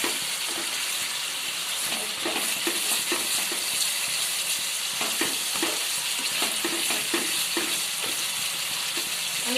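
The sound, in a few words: paneer, cashews and raisins added to sizzling masala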